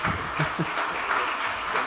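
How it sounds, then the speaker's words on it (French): An audience at the opening session of the 2019 Entretiens de l'Innovation Territoriale conference in Toulouse claps steadily as speakers leave, a dense, moderately distant wash of hands with no voices over it. "on peut les applaudir pour leur permettre de partir"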